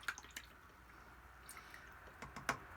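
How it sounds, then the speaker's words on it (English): A watercolour paintbrush rinsed in a pot of water, with faint scattered drips and small splashes at a quiet, close level. "So I'll wash my brush."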